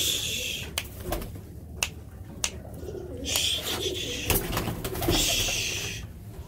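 Pet pigeons coo in a loft, low throaty calls rolling steadily at close range while a few sharp knocks and brief chirps break through the background.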